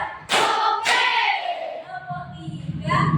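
Children in a classroom counting game clap their hands together: two loud, crisp claps close together, followed by voices talking.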